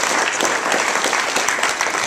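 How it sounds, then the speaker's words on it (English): School achievement awards ceremony audience giving a short round of applause, dense and steady clapping from a full room. "I think we should give Hannah and Lauren a big round of applause for their leadership"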